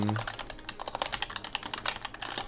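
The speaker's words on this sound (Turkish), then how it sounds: "Bu sırada da klavye ASMR yaptım" A computer keyboard clatters with fast, continuous keystrokes, crisp and close, in a dense typing burst with a brief low tone at the start.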